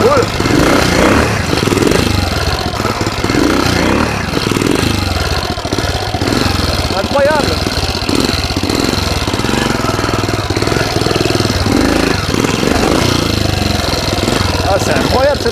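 Tobec motorcycle engine running steadily while being ridden, a continuous rough mechanical drone throughout, with a rider talking over it.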